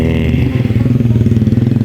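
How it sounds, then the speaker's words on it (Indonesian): A motorcycle engine rumbles loudly and close by a campsite in Puncak, its pulsing, uneven putter rising slightly as it moves past. "sekarang itu ada suara motor tuh."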